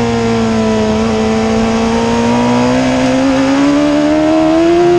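Onboard, a Suzuki Hayabusa race bike rounds the final corner at a Taste of Tsukuba race, its engine loud and close as a steady high-revving note climbs in pitch.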